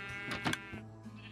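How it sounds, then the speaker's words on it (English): A sheep bleats in the Minecraft video game, one short quiet wavering call alone against a faint background. "Alright, this is the first sheep."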